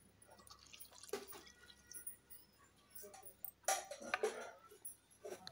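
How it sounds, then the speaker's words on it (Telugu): Water, about three glassfuls, goes into a cooking pot for a snake gourd curry, with two splashy pouring bursts and light dripping in a quiet kitchen, fairly faint and with no talking. "ఇప్పుడు ఇందులోకి వాటర్ వేసుకోవాలి."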